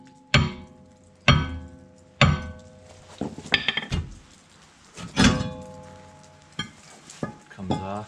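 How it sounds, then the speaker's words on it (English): Hammer tapping a stubborn, stuck rear brake rotor on a 2014 Ford Fusion Titanium: several sharp metallic blows, close and loud, spaced unevenly with quieter knocks and clinks between them. "we'll grab a hammer and give that a couple love taps"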